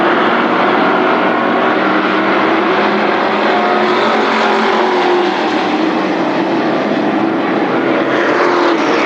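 Mini Indy race cars roar past steadily at Berlin Raceway, a loud, continuous engine drone filling the whole stretch with no pauses.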